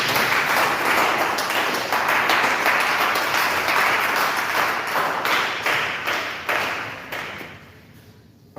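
A church congregation bursts into loud, sustained applause that fills the hall for about eight seconds, thinning slightly toward the end.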